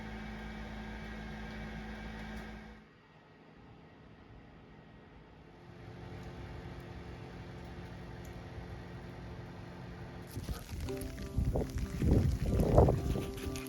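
A snow blower engine runs at high throttle during winter maintenance, giving a steady droning hum that drops briefly, then swells louder and rougher near the end; no one speaks.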